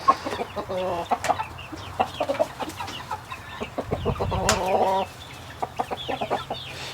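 Chickens cluck and squawk in short, irregular bursts, with a louder flurry of fowl noise midway, close and busy.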